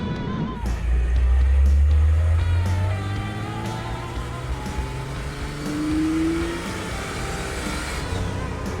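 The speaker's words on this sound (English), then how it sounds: "now it's time for us to enjoy our Turbo 300 swap flatbed shop truck" A turbocharged Ford 300 flatbed truck's engine revs and accelerates hard, a deep rumbling growl climbing in pitch, with a turbo whine rising briefly near the end.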